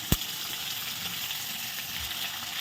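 Capsicum, garlic and green chilli sizzle with lightly fried hilsa fish in a pan, a dense, steady crackling hiss close up, broken by one sharp knock at the start.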